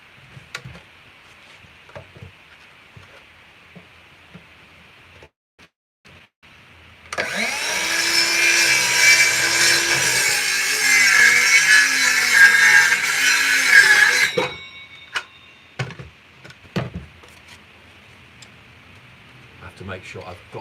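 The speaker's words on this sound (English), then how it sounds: "So I'm just cutting down the boards so I can build the cleat holder." A power saw roars for about seven seconds as it cuts wooden boards for a nail-gun cleat holder in a woodworking shop, loud and close, with sporadic knocks and handling sounds before and after.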